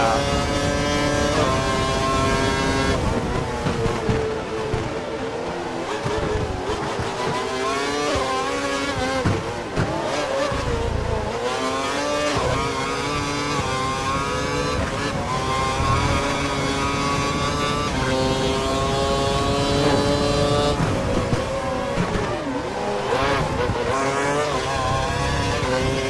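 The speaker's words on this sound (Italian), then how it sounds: "il motore Ferrari" A Ferrari Formula 1 car racing on a wet track at Melbourne in the F1 2012 video game, its high-pitched engine wailing and revving with sweeping gear shifts, loud and continuous with occasional tire squeal.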